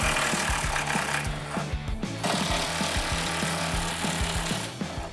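An impact wrench with a socket removing bumper support bolts on a 2014-2015 Silverado 1500 rattles in rapid, repeated bursts close by, with brief pauses between runs, loud and mechanical with no talking.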